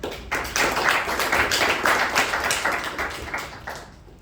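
A room of Toastmasters club members breaks into a round of applause for the table topics master, steady clapping starting sharply and holding for several seconds before thinning out at the end.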